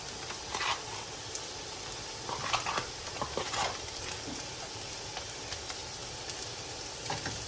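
Chili flakes and Szechuan fried rice masala stirred through in a pan, a steady soft sizzle with scattered scraping clicks of the spoon, no talking.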